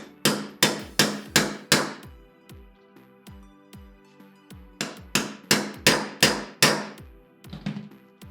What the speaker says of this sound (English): Get a flat blade screwdriver or some sort of chisel. Hold it in the back there, in that back corner. Give it a good tap.